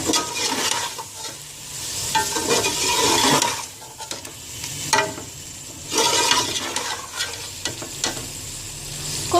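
Chicken with a handful of chopped fresh coriander frying in a pot, loud sizzling bursts alternating with vigorous stirring and scraping, swelling and dipping over several seconds with no speech.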